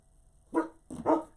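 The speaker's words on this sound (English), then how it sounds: "I hear Maisie barking, but she sounds like she's muffled." A dog barks twice in quick succession, the barks sounding muffled and dull as if behind a wall or door, set against a quiet room.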